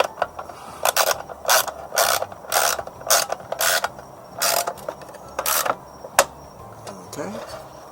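A socket ratchet tightens plenum bolts on a 2002 Ford F-250 in a series of about a dozen short, sharp clicking bursts with irregular pauses, close and loud over faint shop background.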